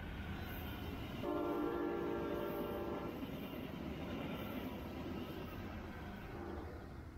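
A bright green Brightline test train with an added orange car passes at a distance, sounding a steady chorded horn blast of about two seconds over the continuous rolling rumble of the train.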